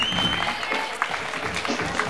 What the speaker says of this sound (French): Allez, on les applaudit mieux que ça,